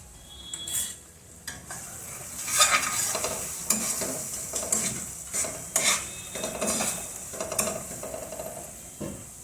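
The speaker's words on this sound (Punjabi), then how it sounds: "ਦੋ ਤਿੰਨ ਮਿੰਟ ਵਾਸਤੇ ਕੜਕੇ ਨੂੰ ਹੋਰ ਭੁੰਨ ਲੈਂਦੇ ਆ" Tadka for whole masoor dal frying in oil, a steady sizzle broken by repeated clinks and scrapes of a metal spoon stirring against the pan, close and fairly loud.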